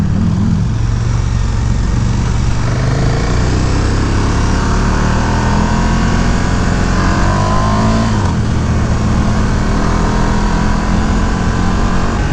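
A 2018 KTM 1290 Super Duke R big V-twin motorcycle pulls through its gears on a ride, engine pitch climbing and dropping with shifts over loud, steady wind rush, close and continuous.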